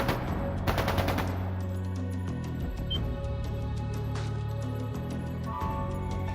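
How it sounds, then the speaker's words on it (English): Gunfire in the video game Trails of Cold Steel II, bursts of rapid shots over a sustained tonal music bed, loud and close within the game's soundtrack. "That sounded like gunfire."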